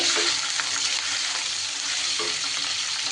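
Cut paneer cubes fry lightly in a pan after asafoetida goes in, giving a dense, steady sizzle with a couple of soft knocks as pieces shift.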